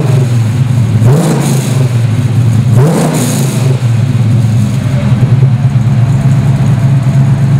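Rear exhaust rumble from a 1967 Chevrolet Camaro SS Pro Touring, a loud close idle with two quick throttle blips that swell and fall back to a deep steady burble.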